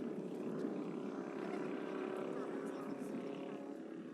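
An aerobatic airplane flying precise figures makes a steady, buzzing propeller-engine drone at moderate distance, sustained evenly while a voice speaks over it.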